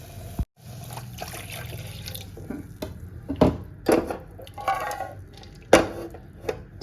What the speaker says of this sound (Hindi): थोड़ा सा मैं पानी और डाल देती हूँ इसमें